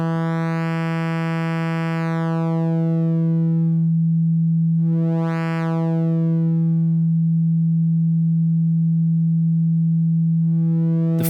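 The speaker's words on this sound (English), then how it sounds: "Starting from a pure sine wave, let's increase the shape control to begin distorting it into a more complex shape." A steady tone from the CIZZLE synthesizer starts close to a pure sine wave and is bent by its shape control into a buzzier, harmonic-rich timbre. The brightness sweeps up and down while the pitch holds, loud and alone.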